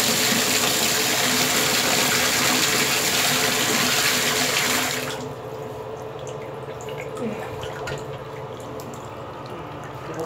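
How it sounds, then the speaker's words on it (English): Water gushes steadily from a bathtub faucet during a leak repair, a loud broadband rush that cuts down sharply about halfway through to a quieter trickle with faint drips. "The water is on."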